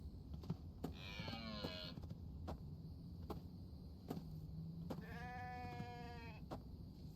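Sheep bleat twice in the survival video game The Infected, wavering cries over a low background hum with soft ticking and tapping throughout.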